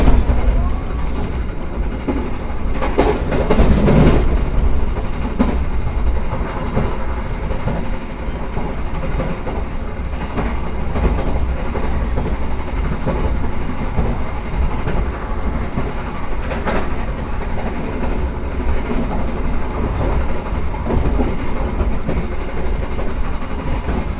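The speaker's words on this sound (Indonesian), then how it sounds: "berjalan ngebut banget saat kereta api Argo Mulia berjalan langsung di stasiun Pemalang ya" The Argo Muria express train rushes at speed through Pemalang station, a steady loud rumble of wheels on rails with rattling carriage noise throughout and no talking.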